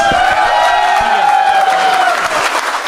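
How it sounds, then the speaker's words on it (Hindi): Audience clapping and cheering at a live comedy show, steady applause from a crowd with a sustained tone running over it. "तीनों के लिए ताली बजाएंगे दोस्तों"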